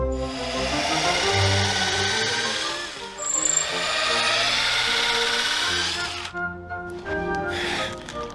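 Power drill boring through a wooden slab with a 12mm bit, a loud steady whine with shifting pitch as the bit bites, pausing briefly midway before resuming and winding down near the end.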